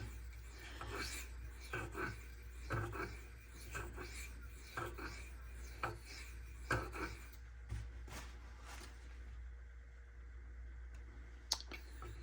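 A Spyderco Sage 5 knife with Rex121 steel is sharpened with repeated rasping strokes on a stone in an even rhythm, close and fairly quiet over a low background hum. The strokes slow and become scattered toward the end.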